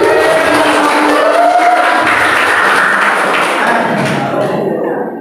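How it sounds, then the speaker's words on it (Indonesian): Audience clapping at a school training session, a loud continuous wash of many hands that fades away near the end, with a few faint voices mixed in. "Ibu atau bapak tepuk tangan dulu."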